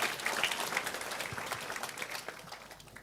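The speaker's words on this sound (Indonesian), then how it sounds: "Oke, tepuk tangan untuk Sabran." A gathered audience claps for a man named Sabran: a brief, fairly faint patter of applause that is already underway and gradually eases off.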